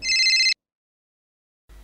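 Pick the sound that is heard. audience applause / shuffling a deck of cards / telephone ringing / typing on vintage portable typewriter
telephone ringing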